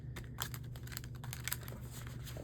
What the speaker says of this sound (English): Chaotic shuffling.